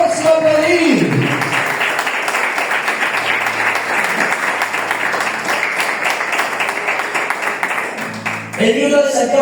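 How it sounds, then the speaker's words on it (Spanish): A church congregation applauds loudly and steadily for about eight seconds, a dense wash of many hands clapping together, with a voice heard briefly at the start and again at the end. "Aplauda al Señor si va a aplaudir"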